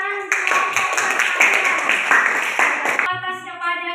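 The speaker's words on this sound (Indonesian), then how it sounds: "Kita berikan tepuk tangan untuk" Classroom audience clapping for a presenting group, a burst of brisk applause from many hands close by, ending as a voice starts speaking.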